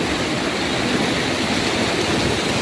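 Steady rush of river water flowing on the Macaiban river in Santa Maria, Bulacan, a dense broadband wash that stays even and close throughout, with no voices.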